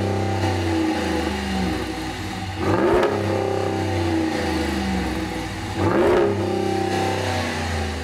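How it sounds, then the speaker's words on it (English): A Ram 1500's 5.7-liter Hemi V8, rated at 395 horsepower, accelerates while towing. It holds a steady drone with two loud revving surges, one near the middle and one toward the end. "Let me reintroduce you to one of my favorite power plants, the Hemi."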